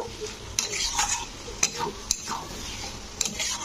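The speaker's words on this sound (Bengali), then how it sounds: "তো দিয়ে এবারে আবারও এটাকে একটু আমি কষে নিচ্ছি" Chickpea and potato curry made without onion or garlic is stirred and sautéed in a pan, with steady scraping and clinking of a spoon against the pan and sharp metallic taps at intervals over a soft sizzle.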